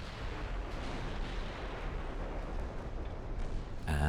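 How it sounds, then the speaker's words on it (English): Secondary guns on a warship firing in Ultimate Admiral Dreadnoughts, a dense rumbling barrage of distant artillery booms rolling steadily, then a brief burst of louder interface noise at the end. "you can use your secondary guns to sink all the little stuff"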